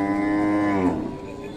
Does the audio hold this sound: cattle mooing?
yes